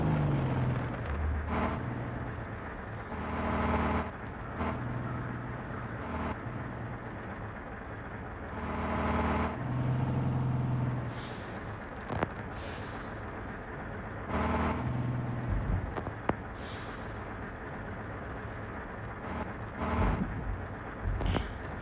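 A bus in the Car Parking Multiplayer driving game: a low engine drone swells and fades in repeated surges over steady background rumble, with no speech.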